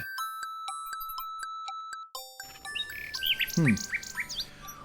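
A nightingale in the adventure game King's Quest VI chirps in quick, high, bright notes that repeat steadily, then turns into a busier run of warbling trills and sweeping calls over a soft ambient background.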